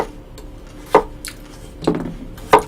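A knife chops cucumber into chunks on a cutting board for summer radish water kimchi, with three distinct, close thuds spaced unevenly and a faint quiet gap between cuts.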